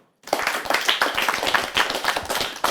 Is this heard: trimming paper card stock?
no